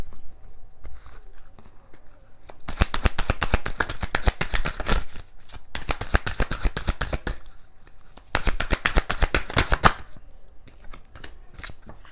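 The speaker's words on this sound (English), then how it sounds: "All right, let's go. Just shuffle." A deck of cards is riffle-shuffled up close in three bursts of rapid, crisp fluttering clicks, with short pauses between them.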